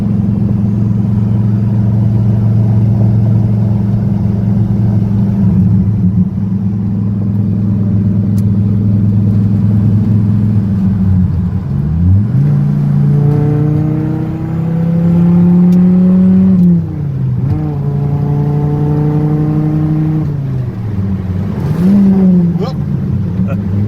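A 2002 Hennessey Viper V10 drives at highway speed with a steady low engine drone, then revs sharply through upshifts and a missed gear, its pitch rising and falling in loud sweeps under occasional talk.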